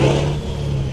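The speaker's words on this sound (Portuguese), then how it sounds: "Esse caminhão, pessoal, esqueci de dizer que o ronco dele é próprio" A heavy Titan tractor truck in Euro Truck Simulator 2 roars with a steady, loud, low engine drone that holds constant throughout, with no talk.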